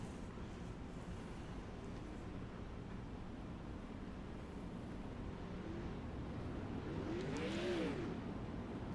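A sprint car pulls out of the pits after damage repairs at a URL Super Sprint Series race, its engine a steady distant drone under crowd and track noise, with a rising revving sweep toward the end.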